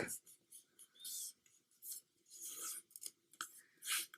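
Paper is folded by hand for an origami gas mask, with soft crinkles, rubs and quick creasing swipes in short bursts, close and quiet.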